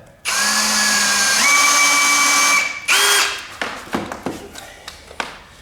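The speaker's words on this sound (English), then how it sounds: "So I'm going to put a screw in just there." A power drill whines steadily for a few seconds as a screw drives into wood during pipe organ restoration, rising in pitch, followed by a short burst and scattered taps.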